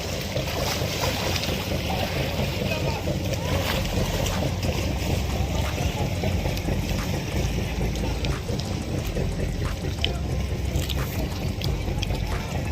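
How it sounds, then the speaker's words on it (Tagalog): Water sloshing and wind buffeting around a small boat on open water off Placer, Surigao del Norte, a steady churning wash with faint chatter in the background. "Dala ka ng bangka."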